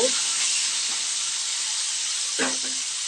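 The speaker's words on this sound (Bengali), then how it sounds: "কড়াইটা ভালোই গরম হয়েছে, আলুগুলো একটু ভাজা ভাজা হয়ে যাচ্ছে" Salted potatoes fry in hot oil in a wok, giving a steady, close, bright sizzling hiss with brief bumps of stirring and faint speech.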